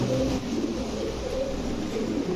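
Teddy, Shahranpuri and Pankhi pigeons cooing steadily in a loft or market, a low continuous murmur of overlapping coos close by, with no clear pauses.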